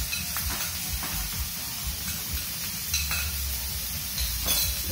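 Onions are stirred in a hot pan for a vegan homemade Alfredo, with a soft continuous sizzle and hiss under repeated scraping strokes of the utensil, close and moderate in level.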